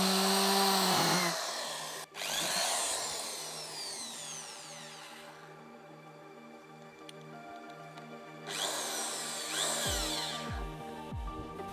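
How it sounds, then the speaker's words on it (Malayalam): A power drill drives screws to fix a woofer into a DIY giant tyre Bluetooth speaker. Two long, loud, close runs of motor whine climb and fall in pitch, with a quieter stretch between them. "നമുക്ക് ഇനി അതൊന്ന് സ്ക്രൂ ചെയ്യാം"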